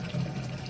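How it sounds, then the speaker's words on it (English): Fresh, cold drinking water runs from a tap at an outdoor water fountain, a steady low rushing pour with no talk over it. "First time collecting fresh drinking water this summer."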